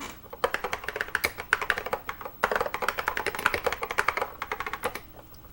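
Rapid computer keyboard typing, dense clicking keystrokes in quick bursts with a brief pause mid-way, close and clear with no talking, during assembly of a BlueSCSI retro SCSI adapter.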